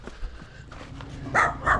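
Dogs barking in the hills near Amed, Bali, a couple of short bursts rising late in the moment over a quiet outdoor background.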